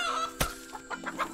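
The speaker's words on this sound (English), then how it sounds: "Feed the chickens." Chickens in Garden Paws cluck in short, close bursts, with a sharp louder squawk near the start followed by several softer clucks, and no talking.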